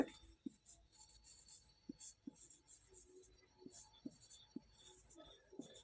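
Pen writing a class 8 maths pattern solution by hand on paper, faint scratchy strokes and soft taps in an irregular rhythm, beneath quiet, low speech.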